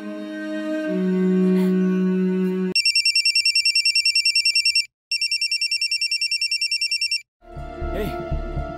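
A telephone rings in a steady electronic trill, two bursts separated by a short pause, loud and close, between stretches of background music in a Hindi drama scene.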